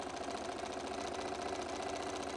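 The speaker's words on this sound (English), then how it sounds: "Sew the whole width of fabric together." A sewing machine stitching quilting fabric at a short stitch length runs with a faint, steady, even mechanical whir throughout, with no talking.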